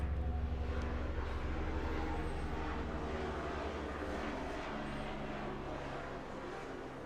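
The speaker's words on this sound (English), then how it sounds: "there's a helicopter." A low, steady rotor-and-engine drone fills the air, loud at first and slowly fading as the aircraft moves away, with no voices.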